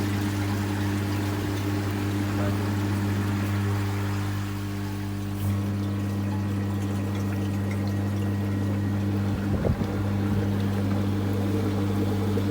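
Air bubbles up through water in a homemade upflow pond filter, a steady churning, boiling-like gurgle close by over a low pump hum, with a brief splashier burst near the end.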